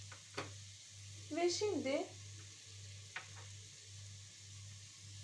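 Prickly squash is stirred with onion and tomato paste in a frying pan, giving a soft sizzle and a few scraping strokes over a steady low hum, while a voice speaks briefly.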